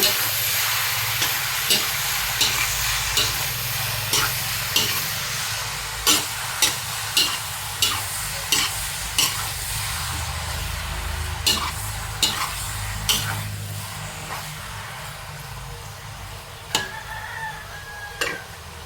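Pork menudo is stirred in a pan with a spoon, a regular series of sharp scraping knocks over a steady low sizzle, and a rooster crows faintly in the distance.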